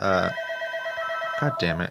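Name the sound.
telephone ringing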